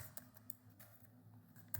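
Keystrokes on a computer keyboard entering a Linux command in a terminal, a few faint, scattered taps over a low steady hum.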